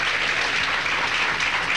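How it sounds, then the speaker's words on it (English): Audience applause at a 1983 duckpin bowling tournament at Holiday Lanes, a dense, steady burst of many hands clapping indoors, loud and continuous for the whole short stretch with no talk over it. "I'd like for everybody to please give them a big round of applause."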